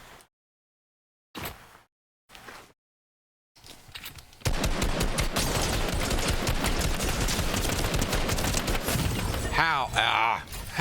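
A few short voiced bits give way to a long, sustained barrage of rapid, loud automatic gunshots in a video game that continues without pause to the end.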